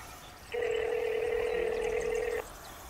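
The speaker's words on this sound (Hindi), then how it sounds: "करा था फुल इन फोन" A telephone gives off a single steady electronic tone in a Rajasthani comedy sketch. It sounds clear and even for about two seconds, then cuts off abruptly, with no speech during it.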